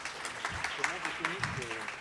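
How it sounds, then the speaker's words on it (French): Audience applause at an AI seminar conference, a brief spell of clapping running under a voice speaking over it. "On peut l'applaudir."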